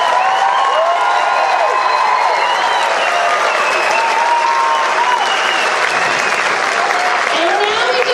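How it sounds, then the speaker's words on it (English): A school concert audience gives a band sustained applause at a spring concert, steady dense clapping filling the hall from start to finish with a few faint whoops and voices mixed in. "Let's give our band another round of applause."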